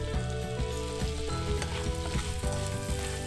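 Apple pieces frying in a pan with a thick, syrupy sweet mixture, a steady close sizzle with bubbling crackle and the scrape of stirring, heard without any talking.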